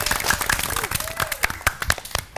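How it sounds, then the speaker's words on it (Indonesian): A television quiz-show studio audience claps with steady, dense applause at moderate level, while a voice talks over it. "Boleh tepuk tangan yang meriah."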